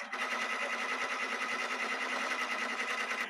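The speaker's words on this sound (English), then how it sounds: "take this memory stick and you just simply stick it into your professional embroidery machine" A professional embroidery machine stitches a design, making a fast, steady, rhythmic mechanical chatter that stays close and even throughout, with no talk over it.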